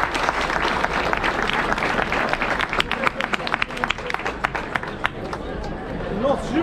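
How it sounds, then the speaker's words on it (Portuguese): A crowd applauds steadily with dense, continuous clapping, bright individual claps standing out as the ovation carries on throughout, at a bullfighting ranch competition results ceremony in Santa Bárbara. "para vocês, uma salva de palmas"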